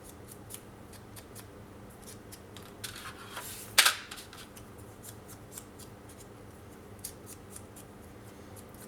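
Scissors cut close up through paper for a scrapbook album page, with a few light snips and one sharper, louder cut in the middle over a quiet room.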